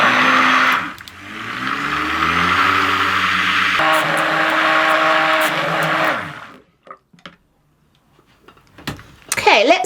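A stick blender whirs loudly and close while mixing wood ash lye soap in a crock pot, running in a steady motorised drone for several seconds with a pitch change midway, then cutting off into quiet handling noises.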